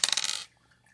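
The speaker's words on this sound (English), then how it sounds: "I can instead roll a dice" Dice clatter briefly across a hard surface for a board game, a quick run of bright rattling taps that stops after about half a second, alone and close.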